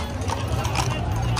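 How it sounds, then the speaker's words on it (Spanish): A horse's hooves clip-clop in quick, repeated strikes, close and fairly loud, with excited voices shouting over them. "¡Mira cómo ese caballo brinca de la cuarta!"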